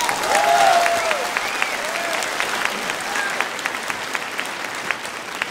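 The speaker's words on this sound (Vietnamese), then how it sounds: "xin mời quý vị một tràng pháo tay thật to cho tất cả các performers và dancer" An audience claps and cheers for performers and dancers at a casino show, dense sustained applause that swells early and then holds steady, with a few whistles and shouts on top.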